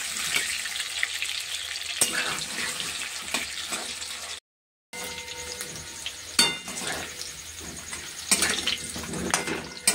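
Potatoes frying in a kadai, a steady bright sizzle of hot oil with occasional stirring scrapes and clinks, close and continuous with a brief gap in the middle.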